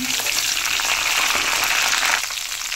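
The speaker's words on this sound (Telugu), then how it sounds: "ఇందులో కొంచెం కరివేపాకు వేస్తాను." Curry leaves dropped into hot oil with onions frying in a pan for a Telugu amaranth curry, giving a loud, steady crackling sizzle throughout, close up with no talking.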